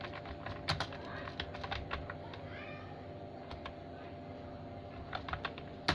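Candidate names being typed on a computer keyboard into a database form, with a steady run of light key clicks and occasional sharper taps over a low room hum, with no talking.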